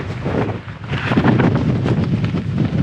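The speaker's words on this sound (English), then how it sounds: "Bloody windy as hell though." Strong wind buffets the microphone on a Scottish mountain summit at 1165 metres, a loud, continuous roaring rush with gusty surges and no talking.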